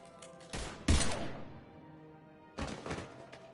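Gunfire in the video game Mass Effect 3, a few heavy thumping shots with a sharp burst, then a lull and another impact, moderately loud against quiet background.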